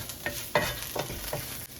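Spice masala for crab masala fries in a pan, giving a short close burst of sizzling with a few scraping stir strokes over a steady hiss.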